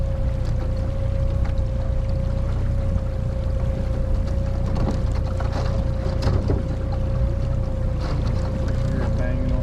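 A boat crunches through sheet ice while out crappie fishing, with a loud, steady roar of engine and water. Scattered knocks and bangs of ice hitting the hull rise above it, and a constant hum runs underneath.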